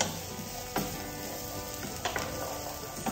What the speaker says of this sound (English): And this we're just going to let saute.